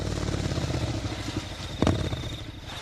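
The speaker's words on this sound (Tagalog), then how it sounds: "Saktong pababa ako ng motor nang magmamadaling lumabas naman si Louie." A motorcycle engine runs steadily close by, a low continuous rumble through the whole stretch, with a sharp clunk partway through as the rider gets off the bike.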